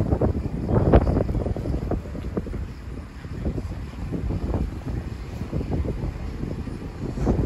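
Wind blows steadily across the microphone in a low, rumbling roar with brief gusts, with no voices heard.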